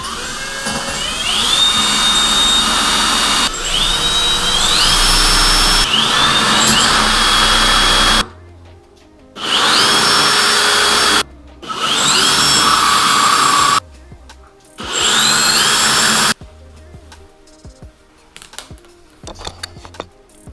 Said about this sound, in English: now it's time to start gluing down and drilling our holes